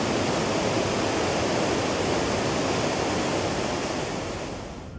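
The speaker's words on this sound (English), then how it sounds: "Just a few minutes' drive from the Simmenfälle is the Iffigenfall, a true refreshment on hot summer days." Iffigenfall waterfall in Switzerland's Simmental, a loud, steady roar of falling water from close by, continuous and broadband with no voices, easing slightly at the end.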